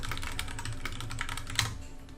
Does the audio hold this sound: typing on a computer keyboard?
yes